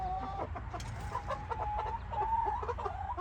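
A handled hen with a pink face and barely any comb clucks close by in a steady stream of short, throaty notes, with a few higher squawks mixed in and no talking.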